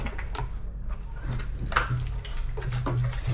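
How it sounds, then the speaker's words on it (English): Soup being poured into a dish at a home kitchen gathering in Jamaica, a steady liquid splash and trickle running through the whole stretch at moderate level. "You guys have to have the honors of taking your soup and pouring it in whenever you're ready."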